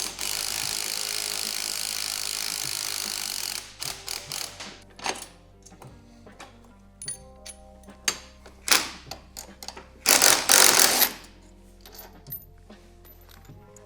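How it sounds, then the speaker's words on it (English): A ratchet loosens the upper ball joint nut on a Polaris Matryx/Axys snowmobile, starting with a sustained hiss, then scattered clicking ratchet strokes and metallic taps, with a loud burst near the end. "We're gonna take off the upper ball joint using an 8 millimeter for the top here, and then the nut on the bottom"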